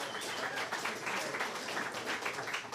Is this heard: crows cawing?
no